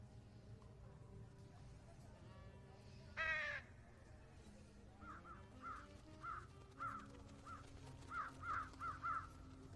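Crows caw in the adventure game Trüberbrook, a series of repeated harsh caws in a steady rhythm over a low ambient background, with one louder call earlier and faint talk underneath.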